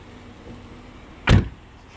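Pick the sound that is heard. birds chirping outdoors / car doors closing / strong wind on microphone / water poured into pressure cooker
car doors closing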